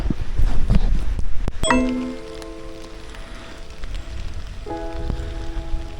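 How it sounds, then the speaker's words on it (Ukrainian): Steady autumn rain patters outdoors by a lake, with a low rumble early on and a couple of brief ringing tones partway through. "У таку погоду дощову."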